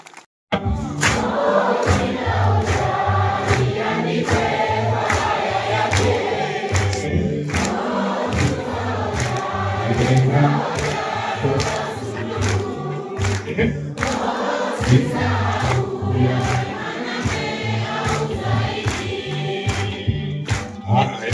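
Students clap in a classroom, a dense run of sharp claps with short pauses that carries on for about twenty seconds with no talking.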